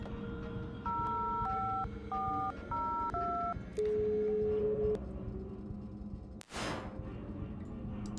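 Payphone keypad tones in a video game as a number is dialed: a quick series of paired beeps, then a longer held tone, followed by a sharp whooshing burst near the end.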